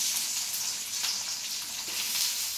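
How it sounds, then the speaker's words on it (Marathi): Onion frying in hot oil in a kadai, a bright continuous sizzle with crackling bursts that rise and fall in intensity, close and steady with no voices. "कांदा फ्राय करून घेऊ आता।"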